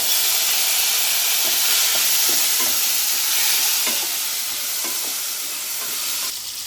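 New potatoes fry with nigella seeds in hot oil, a loud continuous sizzle and hiss up close, broken by scattered scraping stirs and small pops before easing slightly at the very end; nobody speaks.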